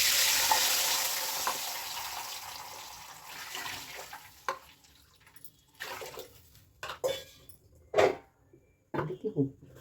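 Water is poured into semolina for chow chow bath, a steady rushing splash that is loudest at first and then thins out, followed by a few scattered clinks and knocks near the cookware.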